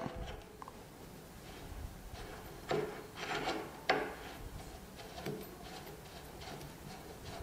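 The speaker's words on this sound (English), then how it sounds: "I'm gonna twist this on to hand tight." A flash hider twisted by hand onto a flow-through suppressor, heard as quiet metallic rubbing and scraping threads with a few louder grinding turns in the middle, close and faint, no voices.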